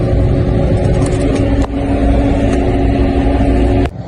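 A John Deere 6145r tractor runs at a steady, loud drone while pulling a 3-metre potato planter across a field, a constant engine hum that dips briefly near the end.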